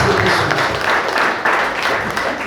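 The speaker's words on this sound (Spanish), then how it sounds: "¿Cuánto le dan un aplauso al Señor?" A church congregation breaks into applause, a dense, loud wash of clapping that swells and ebbs for a couple of seconds with no voices heard.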